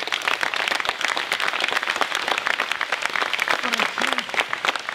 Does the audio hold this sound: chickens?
no